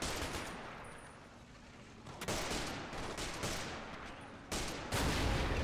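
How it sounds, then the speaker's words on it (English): Gunfire in the World War II strategy game Men of War Assault Squad during a German counterattack on a city, with sharp bursts of shots and volleys breaking through a steady battle rumble, growing louder toward the end. "part of this kind of fence, rock fence, is being just shot down"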